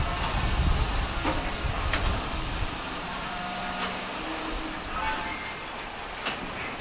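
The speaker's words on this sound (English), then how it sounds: "Now they gotta shove the whole train back." A freight train is shoved backward along the rails: low rumble and steady hiss of rolling cars and air, with faint metallic squeals and clanks rising through the middle and end.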